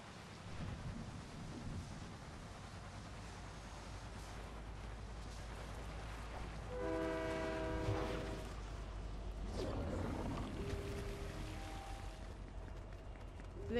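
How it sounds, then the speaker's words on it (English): A train horn in the Fortnite video game, sounding in long sustained blasts over a heavy low rumble and game noise, with a second horn blast a few seconds later. "Do they want the train?"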